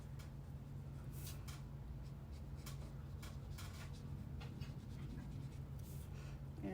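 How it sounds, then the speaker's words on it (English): Felt-tip marker (Blushing Bride color) scratching steadily across paper in short repeated strokes, close and quiet over a low steady hum, with no talking. "I just want to color in his ears here"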